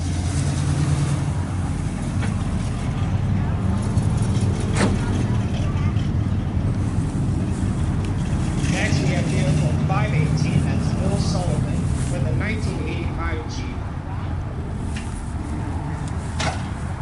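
A 1996 Chevy car at a car show in Peru gives a steady engine rumble through the whole stretch, with crowd noise and a public-address voice over it.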